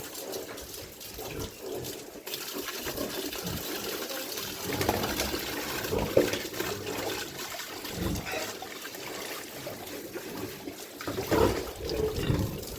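Water is poured and splashed over a pig's body on a hot day, an uneven run of trickling and gushing close by, with louder surges at intervals.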